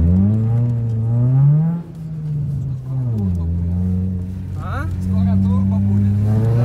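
A VAZ 2113 hatchback with a 16-valve engine revs loudly up close, its engine note climbing, dipping and climbing again in smooth sweeps, with people talking nearby.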